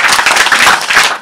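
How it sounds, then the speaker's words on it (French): Brief burst of loud, close applause from spectators at an auto-cross event in Badefols d'Ans, dense rapid clapping that begins to thin at the end. "on peut les applaudir"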